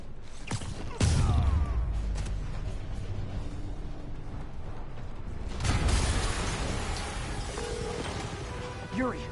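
Two loud, sharp bursts from an explosion in the Spider-Man PS4 video game, each trailing into crackling debris and mechanical creaks amid game sound effects.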